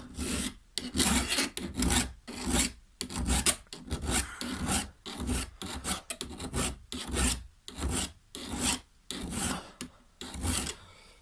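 A round chainsaw file rasps against a hedge trimmer blade in steady back-and-forth strokes, about two per second, close and loud with short gaps between strokes.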